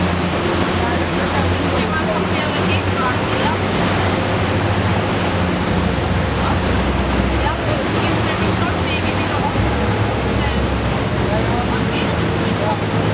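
Tidal water rushing through the Horizontal Falls, a loud, continuous roaring wash of turbulent water with steady wind noise and no breaks, heard alone throughout.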